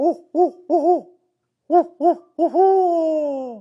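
A person imitates a barred owl, hooting two quick pairs of hoots, a pause, then more hoots ending in a long drawn-out, falling hoo-aww.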